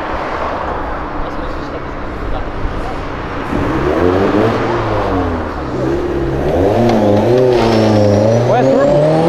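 A turbocharged lowrider car engine revs up, its tone rising and falling in strong swells that grow louder toward the end, with people talking over it.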